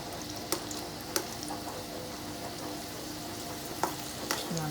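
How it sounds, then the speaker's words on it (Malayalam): Already-cooked French fries frying in oil make a continuous close sizzle, broken by a handful of sharp clicks and taps from stirring. "ഓൾറെഡി വെന്ത സാധനമാണ് കേട്ടോ. ജസ്റ്റ് ഒന്ന് ഫ്രൈ ചെയ്യുന്നതായിരിക്കും."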